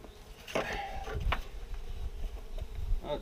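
A strong honey bee colony buzzes around an open hive in spring, a steady insect drone close by with a few brief louder swells as bees pass near.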